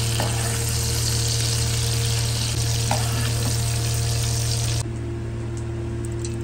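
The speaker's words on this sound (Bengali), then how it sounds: "হালকা করে পেঁয়াজ টমেটো ভাজা হয়ে গেছে" Onion and tomato fry in hot oil in a pan for an egg masala curry, giving a steady, close sizzle that runs unbroken and drops slightly in level near the end.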